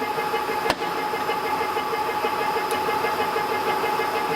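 A metal lathe runs steadily with its longitudinal feed and half nut engaged, a constant mechanical hum and whir with one sharp click near the start and a fainter one later.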